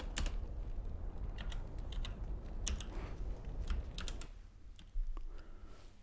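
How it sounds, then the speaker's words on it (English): Rapid typing on a computer keyboard, dense clicking keystrokes close by that run steadily before thinning out to a few scattered taps. "Bit disappointed Abdul could actually hear the keyboard."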